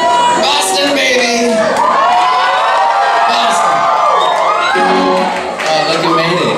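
A crowd at a live concert in a Boston venue cheers and whoops loudly, a sustained roar of shouts and screams filling the clip close and dense.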